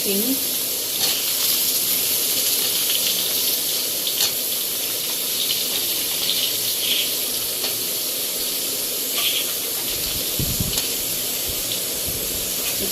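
Potatoes go into hot oil already tempered with cumin seeds in a pan, for a thin hilsa curry with potato and eggplant. A loud, steady sizzle fills the whole stretch, with a faint voice now and then underneath.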